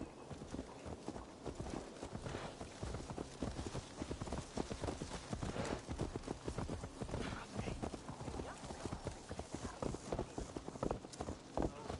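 Steady clip-clop of horse hooves trotting at an even pace, close and continuous, with a faint game-like ambience behind it, from Assassin's Creed Valhalla on PS5.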